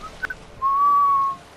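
A person whistling a tune inside a building: two short chirped notes, then one long, steady, clear held note, loud and close, with no talk over it.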